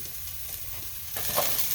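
Onions fry in a pan with a steady close sizzle, the crackle swelling louder toward the end as they are stirred.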